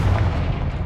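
A single short Confringo fire-blast spell from Hogwarts Legacy, a deep, loud burst with a booming low-end thump that stays dense for under a second.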